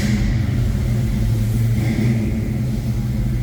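A 1966 Ford Mustang Coupe engine with an Edelbrock mild cam idles with a low, steady, slightly lumpy rumble, close and fairly loud, with no voices.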